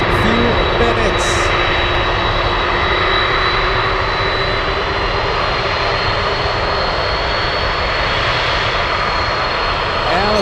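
An Atlas Air cargo plane crossing the runway at Anchorage airport gives a loud, steady engine roar with a high whine, holding level and close for the whole stretch with no break.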